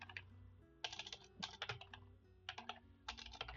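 Rapid clacking of keys on a computer keyboard, typed in several quick bursts with short pauses between them, close and fairly faint, with no talking.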